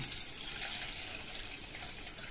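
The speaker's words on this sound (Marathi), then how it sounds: "एक भांडं घ्यायचं, त्याच्यामध्ये एकदम थंड पाणी ओतायचं" Steady broadband rush of cold water from the fridge being poured into a pot, continuous and moderately loud with no talking.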